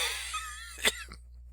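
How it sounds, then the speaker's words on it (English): A single sharp cough, fairly quiet and close, followed by a softer catch of breath against a low steady hum. "Now I'm coughing."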